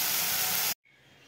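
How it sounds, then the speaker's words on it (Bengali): Ingredients for an egg curry hit a hot pan with a loud, steady sizzle that cuts off abruptly, leaving a faint hiss behind. "এইবার আমি এটাকে ভাজবো"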